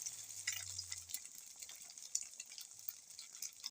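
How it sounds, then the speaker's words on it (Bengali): An egg omelette fries in mustard oil in a wok, giving a faint, steady sizzle with soft stirring and turning sounds and a low hum at moments. "লাল লাল করে ভেজে নিচ্ছি।"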